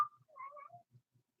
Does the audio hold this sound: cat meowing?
yes